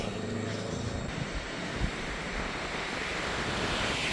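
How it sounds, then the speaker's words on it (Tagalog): Strong wind gusting at a seaside surfing-area campsite in Quezon late at night, a steady roaring broadband rush with low buffeting rumbles against the microphone, waves likely mixed in, no voices. "Ngayon, ang lakas ng hangin."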